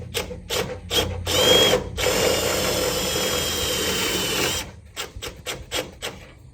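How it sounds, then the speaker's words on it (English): A self-tapping screw being driven to mount an electric radiator fan in a 1977 Toyota Celica, heard as a steady grinding whir lasting several seconds, with short clicking bursts before and after it, close and loud, with no talk. "To get this guy mounted, we are going to use a self-tapping screw."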